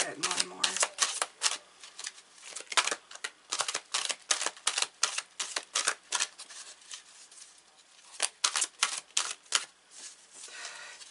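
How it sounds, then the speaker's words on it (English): Tarot cards being shuffled by hand, a dense run of crisp riffling and slapping bursts with brief pauses, fairly quiet and close, no talking. "These are quite challenging to shuffle."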